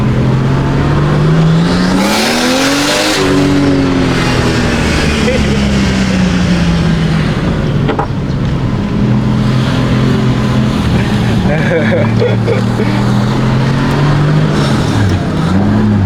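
A Nissan Cefiro A31 with an RB25DET engine revs and accelerates on a quiet rural road, loud and close throughout. The engine note climbs in pitch, drops at a shift, then climbs again, with a voice talking briefly over it.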